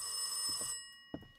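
A telephone bell rings in short electronic trills, muffled and somewhat distant as if from another room, breaking off before a brief second burst.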